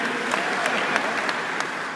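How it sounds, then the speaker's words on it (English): An audience claps along in a live seminar hall in Dallas, dense steady applause with a few sharper individual claps popping out, alone without talk. "Fellas, clap your hands. Just clap your hands, fellas."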